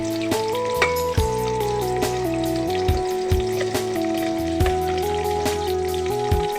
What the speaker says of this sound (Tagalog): Yan nga po, at iginasa na nga po. Lagay na po ang sibuyas at bawang.